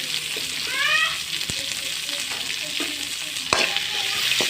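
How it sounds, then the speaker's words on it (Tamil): Onions sautéing in a pan for a Tamil tamarind curry with manathakkali berries: a steady close sizzle with scraping stir strokes and a few sharp utensil clicks, no talking. "பெரிய வெங்காயத்தை போடுங்க நல்லா வதங்கட்டும்"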